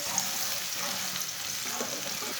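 Finely chopped onion fries in oil in a pan while being lightly browned for an aloo chicken curry, giving a soft, even sizzle at low volume with no voices.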